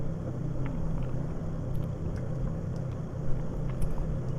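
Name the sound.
aircraft taxiing in a flight simulator video game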